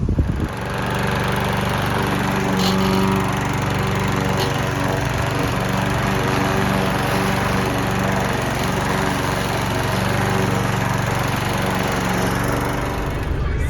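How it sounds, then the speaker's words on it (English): A lawn mower engine runs steadily and loudly up close, a continuous droning hum with a harmonic whine, held at constant pitch throughout as it cuts grass, with no voices. "Here is the dreaded machine. Time to mow some lawnage."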